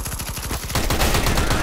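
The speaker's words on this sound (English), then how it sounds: "Teammate shooting you." Rapid automatic gunfire from a teammate in a first-person shooter video game, loud bursts of shots that grow denser and heavier partway through, with no talking.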